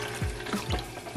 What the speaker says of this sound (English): Cat water. Need to fill that up.